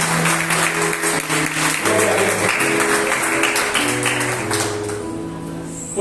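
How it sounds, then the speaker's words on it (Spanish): A church congregation applauds loudly and steadily, with dense clapping running throughout and easing slightly toward the end, while music plays underneath. "Vamos a dar un fuerte aplauso a esta."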